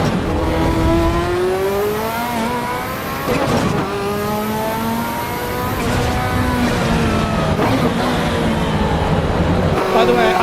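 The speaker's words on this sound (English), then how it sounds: "I actually hit the rev limiter on purpose sometimes" Vehicle engine in the Foxhole war game holding high revs against the rev limiter, a loud steady drone with rising and falling harmonic sweeps, under gameplay clatter.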